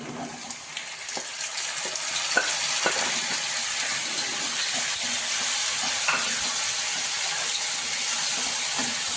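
Mutton hitting reddish-fried onions in a pan gives a steady, loud close sizzle that fills the whole stretch, with occasional small pops and stirring clicks and no voices.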